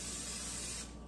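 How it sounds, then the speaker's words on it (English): Cooking oil spray hissing from a can onto a hot pan, a single steady, bright spray close to the microphone that lasts under a second before trailing off. "So I just like to wait until the pan is nice and hot, and I will go ahead with my spray."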